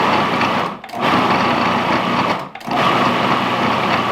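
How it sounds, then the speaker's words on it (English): A food processor pulses fresh basil for pesto, its motor whirring loudly and steadily with two brief pauses between bursts. "All right, we're gonna pulse this basil."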